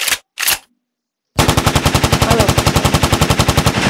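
A PKP machine gun in the surviv.io browser game fires a long, steady, rapid burst of evenly spaced loud shots, after two short earlier bursts and a brief silence.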